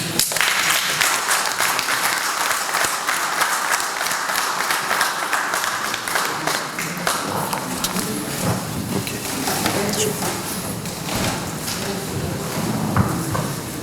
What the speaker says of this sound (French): je voudrais qu'on applaudisse ma sœur